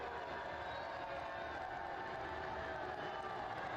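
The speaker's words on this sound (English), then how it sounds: "Crowd are not happy, as you can hear" A stadium crowd at an NWSL women's soccer match between Houston Dash and Racing Louisville makes a faint, continuous, distant roar with no distinct peaks.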